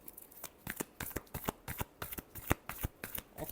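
Tarot cards being shuffled by hand, a steady run of crisp riffling slaps repeating several times a second, close and fairly quiet with no voice over them.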